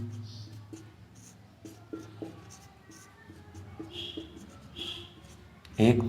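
Chalk or marker scratching a question onto a board during a reasoning lesson, a series of soft, brief scribbling strokes under a man's ongoing speech.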